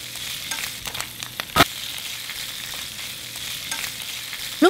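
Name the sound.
bamboo shoots stir-frying in a pan with garlic and shallots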